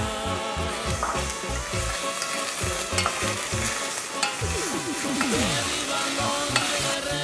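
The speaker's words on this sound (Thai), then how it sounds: "เราจะลงไปคั่วในหม้อนะคะ หรือกระทะที่ลึกๆก็ได้ค่ะ" Pork belly sizzles loudly in a pot while a utensil scrapes and stirs in steady, repeated strokes, cooking for Thai egg palo with coconut milk.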